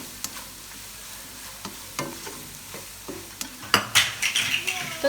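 Carrots stir-fried in a hot pan for chicken chow mein: a close sizzle under clattering spatula strokes and utensil clinks, the scraping growing busier and louder near the end.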